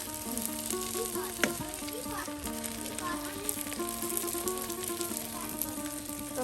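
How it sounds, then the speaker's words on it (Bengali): Malabar spinach leaf fritters fry in hot oil in a village-style kitchen, giving a steady, close crackling sizzle that runs continuously with a faint background hum. "এই যে পুঁই শাকের বড়া কিন্তু ভেজে নেওয়া হচ্ছে"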